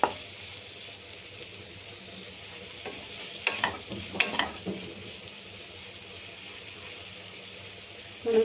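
Ginger garlic paste for a chicken samosa filling fries in a pan while being stirred, a soft low sizzle with a few scraping stirs in the middle.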